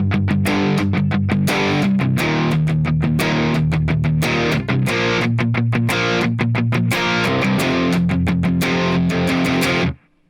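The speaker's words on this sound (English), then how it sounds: "So the right hand rhythm is going to sound like this now." Distorted electric guitar chugs a steady, driving right-hand rhythm part for a song, loud and close, with dense repeated strums that stop abruptly at the end.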